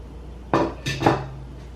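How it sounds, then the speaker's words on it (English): Beans tipped into a cooking pot for dal makhani land in two clattering bursts against the metal, close and brief, with no talk over them. "So we're going to add in our beans."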